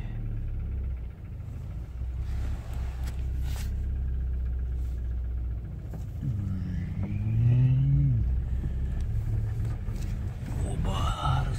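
After a cool start, a car engine hums low and steady, then the car goes into gear and pulls away with a rising whine as it accelerates, while a voice talks over it.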